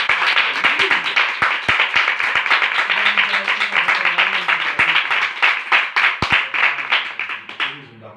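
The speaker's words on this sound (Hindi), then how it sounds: "एक बार फिर से यीशु के कलाम के लिए एक बार जोरदार ताली।" A congregation claps loudly and steadily in a church service, a dense wash of many hands sustained for several seconds before tapering off at the end, with no speech over it.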